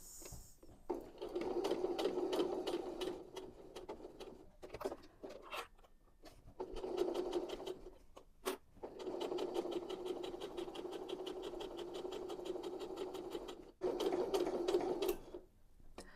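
Sewing machine stitching fabric scraps for a small handbag, running in steady bursts with short pauses and back stitches, close and clear, no speech.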